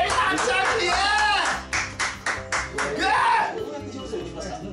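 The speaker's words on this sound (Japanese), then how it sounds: "バンザイ、バンザイ、イエーイ、拍手、拍手" Several people clap in bursts of celebration over a baseball draft pick, the claps mixed with excited voices, cheers and chuckles.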